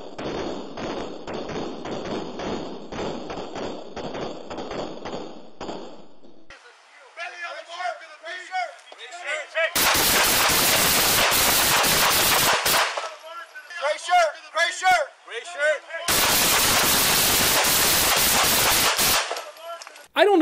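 Police fire more than fifteen shots in dense bursts of rapid gunfire, with quieter stretches where people talk between the loud volleys.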